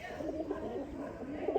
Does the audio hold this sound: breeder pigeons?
yes